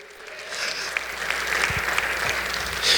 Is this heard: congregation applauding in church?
yes